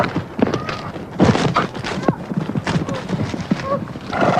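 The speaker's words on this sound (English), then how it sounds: "All of a sudden, Jenna's horse spooked" A spooked horse scrambles and gallops with thudding hooves and short whinnies, while a rider and onlookers shout in alarm throughout.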